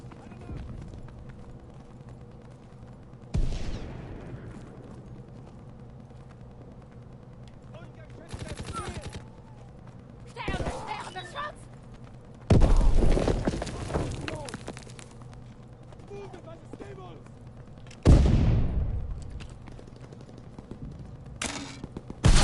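Bursts of gunfire in a PS4 shooter game come in several separate volleys spread across the clip, loud and rapid, with quieter rumbling stretches in between.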